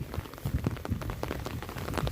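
Heavy rain pours outdoors beside a fish net set in water, a continuous dense hiss with scattered heavier splashes and no voices.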